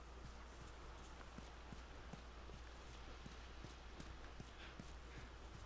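A horse's hooves clip-clop in a steady, even rhythm, with many evenly spaced footfalls across a winter setting in The Last of Us video game, all under a constant low background hum.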